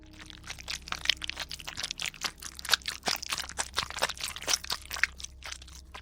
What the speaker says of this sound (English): The sound of someone chewing flesh.